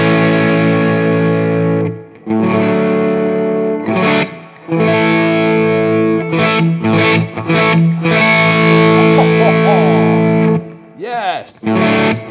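Electric guitar on its bridge humbucker pickup through a Laney Lionheart L20H amp, sustained overdriven chords and notes with short gaps between, close and loud, ending in a quick wavering bend.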